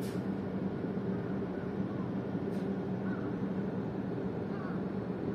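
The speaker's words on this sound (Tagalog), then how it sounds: "May mga uwak pa dun." Crows caw faintly in the distance over a steady, loud rumble of engine or wind noise at an LPG terminal in Karatsu, Japan.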